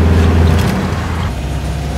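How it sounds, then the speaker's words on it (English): A bus engine runs flat out with the windows open, a loud steady roar and drone filling the space without pause and no voices. "Engine flat out."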